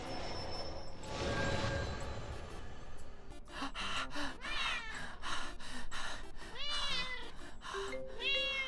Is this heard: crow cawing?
no